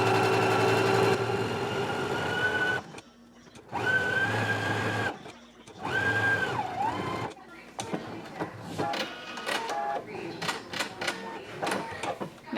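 A sewing machine stitches fabric for a McCall's 7831 jumper in several short runs, starting and stopping with brief pauses between bursts, close and fairly loud.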